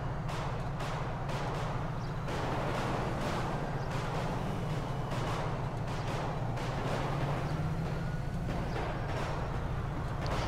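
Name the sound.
gunfire from a gun range in video game Grand Theft Auto V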